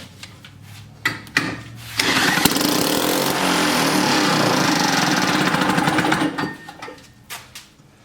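A 1958 Tecumseh lawn mower engine, a barn find being started for the first time, catches after a few pulls and runs with a loud, steady buzzing rattle for about four seconds before cutting out, followed by clanks.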